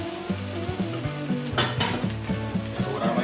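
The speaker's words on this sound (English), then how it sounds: "we are going to saute our half-steamed vegetables in that mix" Half-steamed vegetables sautéed in a pan of browned fond for a healthy meal prep, a steady close sizzle with stirring scrapes and occasional utensil knocks against the pan, no voices.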